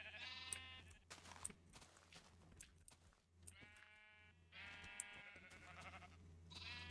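Minecraft sheep bleat several times in short, close calls, with quiet gaps between them and a low steady hum underneath.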